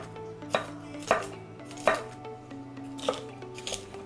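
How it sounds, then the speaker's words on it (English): A knife chops through pork on a cutting board for chow mein, five or six distinct, evenly spaced thuds close by, with faint kitchen hum and no talking. "Again, just slice this into strips."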